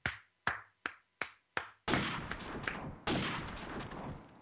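Gunfire in the video game Call of Duty 4: five sharp, evenly spaced single shots, then dense rapid bursts of automatic fire, loud and close with no talking.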